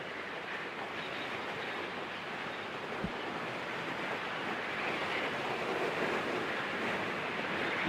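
In the space game Kitten Space Agency, a steady wind rushes during high-altitude flight, a continuous broadband whoosh that swells slightly, heard alone with no talking.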